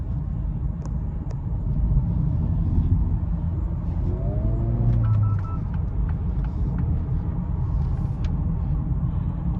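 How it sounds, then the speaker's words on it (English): Cabin sound of a 2023 Acura Integra with its 1.5-liter engine and exhaust while driving: a steady low engine drone and road rumble that swells slightly as it pulls, with faint rattles and clicks, no talk. "I really don't mind how this car sounds so much."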